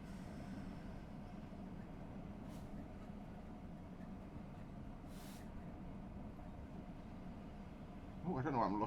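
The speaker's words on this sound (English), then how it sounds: "I'm going to slam it into idle and let the train coast for a bit." Class 66 diesel locomotive coasting at idle in Train Sim Classic, a steady low rumble of engine and wheels with faint hiss bursts and a brief rattling clatter near the end; a voice talks over it at times.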